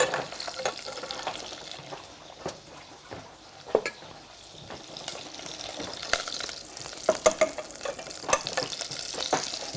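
Butter and oil heating in a soup pot give off a soft, continuous sizzle, with scattered clinks and scrapes of a spoon or utensil against the pot and a few louder stirring knocks near the end.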